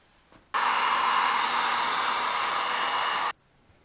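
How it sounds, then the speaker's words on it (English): A heat gun shrinks heat-shrink tubing over an LTO battery cell, blowing a steady, loud airy whoosh that switches on abruptly, holds for about three seconds, then cuts off into quiet. "Let's put the heat shrink on."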